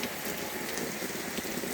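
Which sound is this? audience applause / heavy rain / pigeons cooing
heavy rain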